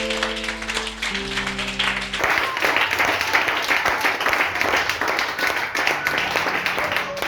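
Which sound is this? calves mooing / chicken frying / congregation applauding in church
congregation applauding in church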